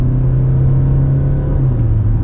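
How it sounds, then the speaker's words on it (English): From inside the cabin, a 2022 Hyundai Tucson diesel automatic under hard acceleration makes a loud, steady, low engine drone that holds throughout without talking. "the typical diesel sound intrudes into the cabin, but even then it is really well controlled"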